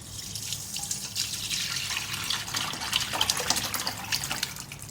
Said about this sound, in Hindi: अब मैं इसकी यखनी को छान लूँगी।